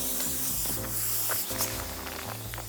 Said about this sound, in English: now Dad's gonna spray paint it